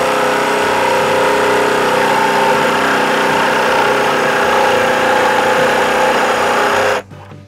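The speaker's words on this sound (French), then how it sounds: "on va pouvoir attaquer la découpe en allant au maximum de la vitesse" A jigsaw cuts at full speed with a loud, steady motor whine and buzz that runs unbroken for about seven seconds, then stops abruptly.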